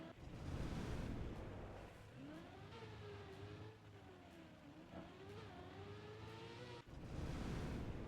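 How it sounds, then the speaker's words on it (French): A video game car engine revs and accelerates, rising and falling in pitch as it shifts through gears, loud and steady with heavy rumble, played over speakers. "la voiture, elle sort. Le son du jeu, il sort sur les enceintes."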